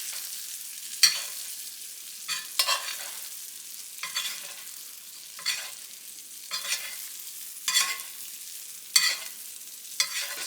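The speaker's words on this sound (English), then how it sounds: "baste your steak." A New York strip steak sizzles in a pan while being basted, with a soft constant hiss broken by about eight bursts of spattering as hot fat is spooned over, close and without talk.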